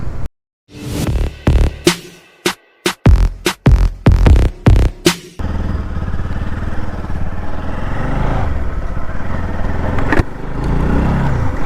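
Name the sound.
NS motorcycle with bend exhaust pipe engine running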